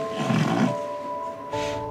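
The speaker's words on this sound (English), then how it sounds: "To see this pug make those lovely puggy noises on recovery was music to my ears" A pug recovering from anaesthetic gives snorting, snoring breaths close by, a rough rasping inhale followed by a quieter stretch and then another noisy breath, with a steady tonal hum underneath.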